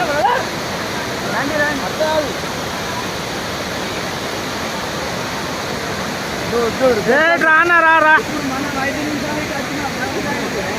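Baabijhari waterfall at Kerameri roars in a constant broad rush of falling water, loud and unbroken, while people talk and call out over it.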